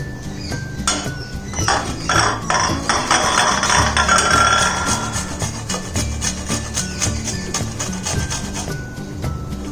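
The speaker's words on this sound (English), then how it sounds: "Ginger peeled, and we would be grating the ginger." Peeled fresh ginger is grated by hand for ginger mint lemonade, giving loud, rhythmic scraping rasps in quick repeated strokes, close up and alone.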